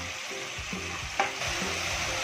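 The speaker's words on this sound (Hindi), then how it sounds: "अब इसमें अदरक लहसुन का पेस्ट ऐड कर देंगे और इसको भी थोड़ी देर भून लेंगे।" Ginger garlic paste sizzles and fries steadily in a pan while being stirred, with a few soft clinks of a utensil against the pan, close and continuous with no voices.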